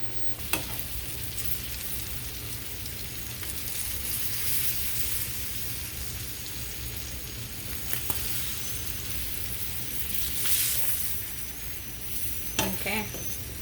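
Chicken sizzles and crackles steadily in a hot frying pan, with a few brief clinks and stirring scrapes along the way.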